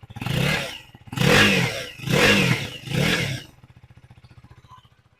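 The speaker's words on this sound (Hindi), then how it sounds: "एक बार स्टार्ट करके देख लेते हैं इसको कि हाउ दिस साउंड्स।" A Husqvarna Vitpilen 250 single-cylinder motorcycle engine revs four times in quick succession, each burst rising and falling, then settles into a close, thumping idle.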